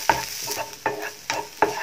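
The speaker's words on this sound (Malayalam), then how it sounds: "ഇനി ഇതൊന്ന് ലോ ഫ്ലെയിമിൽ തന്നെ ഇട്ടുങ്ങാണ്ട് ഒന്ന് മൂപ്പിച്ചെടുക്കുക" Onions and curry leaves frying on a low flame for a chutney, with four evenly spaced spoon scrapes against the pan over a soft, close sizzle, no talk.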